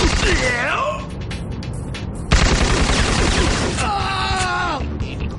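A G3G4 rifle fires in a video game, loud rapid bursts of gunfire under groaning and shouting voices, with a sharp crack midway and more shots following.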